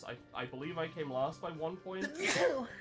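A single loud, sharp sneeze bursts out near the end, right after a stretch of close conversational speech.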